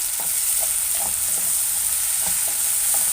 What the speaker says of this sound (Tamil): இப்போ அரைச்ச தக்காளியை இதில் சேர்த்துக்கிறேன். இதையும் நல்லா மிக்ஸ் பண்ணி விட்டுடலாம்.